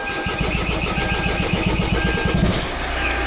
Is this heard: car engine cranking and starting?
yes